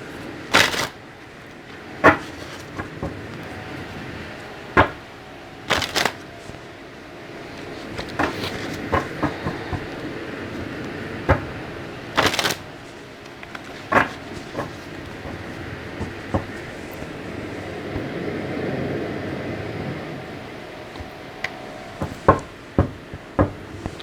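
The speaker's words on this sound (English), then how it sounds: "So let me shuffle these cards and see what's going on." Tarot cards being shuffled by hand, giving repeated soft riffling and knocking of the deck that comes in irregular bursts over a low steady background, with no talking.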